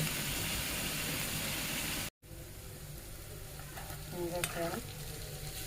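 Cauliflower fries in a pan with a steady sizzling hiss, cut off briefly, then a quieter sizzle returns with light scraping and clinks as it is stirred.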